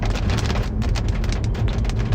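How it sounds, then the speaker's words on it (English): Large hail pounding a car roof during a severe thunderstorm in Pennsylvania, a dense, continuous loud rattle of impacts close overhead with no talking. "That is very large hail in that."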